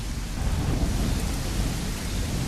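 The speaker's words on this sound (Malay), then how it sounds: "Really I didn't know he's going to rain tonight" Rain and thunder from the horror video game The Motel form a dense, steady downpour hiss with a low rumbling undertone, continuous and fairly loud, with no voices.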